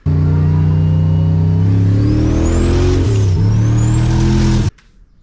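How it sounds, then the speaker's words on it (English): An LS-swapped car engine fed by a blow-through carburetor revs loudly and close, its pitch climbing, dipping briefly, then rising again before cutting off abruptly to a low idle. "So you see the car sounds great"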